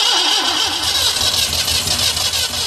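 A 30-year-old Citroën fitted with a Maserati engine cranks and catches, a loud, steady mechanical churn with rough low-end pulsing throughout and no voices.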